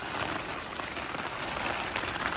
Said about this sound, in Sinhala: අපි මේ පට්ට වැස්සකට අහුණා